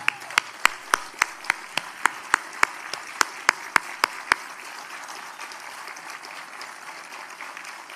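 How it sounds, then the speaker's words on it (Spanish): Sparse, scattered claps from a small audience at CONAF's public accounts presentation for the Chilean national forestry corporation, about a dozen sharp, distinct hand claps over the first half, then trailing off into quiet room tone. "un aplauso para todos los funcionarios de CONAF, por favor, que están a lo largo de todo Chile"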